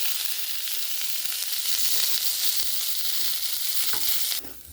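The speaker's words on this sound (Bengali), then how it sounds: "এবার পেঁয়াজ কলিটা ভেজে নিচ্ছি" Onion stalks fry in oil in a pan with a steady, loud hiss and sizzle, broken by faint stirring clicks, and no talk.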